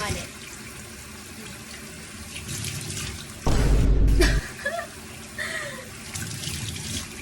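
A tap runs for face rinsing, a soft trickle and splash of water throughout with a louder gush for about a second midway; no sink is used.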